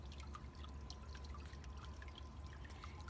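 Running water trickles and pours nearby in a continuous, quiet stream, with small scattered drips and splashes over a low steady hum and no voices.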